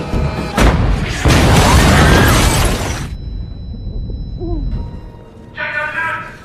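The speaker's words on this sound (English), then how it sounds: "a cannon is fired at the building" Cannon fired at a building during a coup in the film No Escape, a loud boom and crashing debris lasting about three seconds, followed by quieter rumbling, voices, and further noise.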